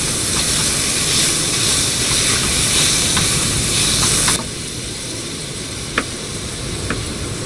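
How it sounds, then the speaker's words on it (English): Pork mince frying in a pan at an outdoor beach cooking spot, a steady loud sizzling hiss that drops abruptly to a quieter sizzle partway through, with a couple of brief clicks near the end. "Phase 2, I got to fry up some pork mince"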